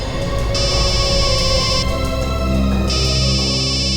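An electronic phone ring repeats in steady bursts over a constant low hum, loud and close.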